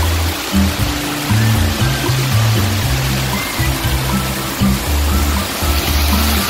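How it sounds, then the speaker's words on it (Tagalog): Stream water flows steadily in Cornwall Park, Kowloon Tong, a loud, close, continuous rushing wash with low burbling tones running underneath. "You can hear the natural sound of the water."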